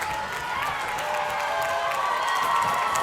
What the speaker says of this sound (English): Crowd erupting.